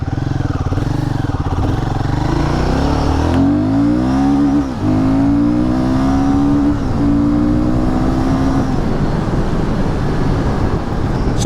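A Royal Enfield Guerrilla 450 motorcycle revs hard while being ridden, the engine note climbing through several rising pulls with brief dips between gear changes, loud and close.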